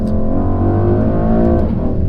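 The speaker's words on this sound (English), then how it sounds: "enjoy the obscene power of this engine and the pops and bangs from that exhaust" A loud, close engine of a 2021 Mercedes-AMG GLE 63 S SUV revs hard with a deep throaty roar, the pitch climbing and dipping, with brief exhaust crackles near the end.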